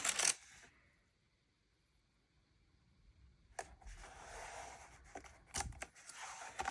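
Scissors trimming the edges of stickers for a journal: a few crisp snips and rustles of paper, quiet gaps between bursts, handled close up.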